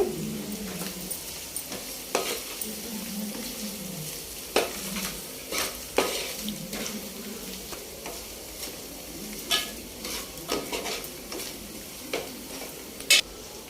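A pan of fish curry with chili powder sizzles steadily while a spoon stirs it, scraping and clacking against the metal in irregular strokes over the frying hiss, close and moderately quiet.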